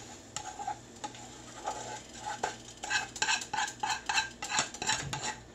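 Rice and an egg mixture are stir-fried in a pan for pork chop fried rice, with a soft sizzle beneath repeated close metallic scrapes and taps of a utensil, growing busier toward the end.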